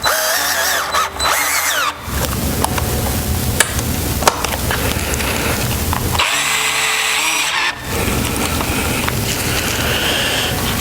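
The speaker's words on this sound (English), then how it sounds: "with your T25 you can screw them in" Power driver with a T25 bit running screws into a bike headlight mount, two loud whirring bursts with short pauses and clicks between, close up with no talk.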